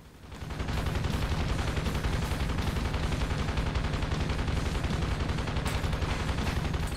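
Rapid continuous machine gun fire from a helicopter in the video game Thunder Wolves rattles densely and loudly for several seconds without a break.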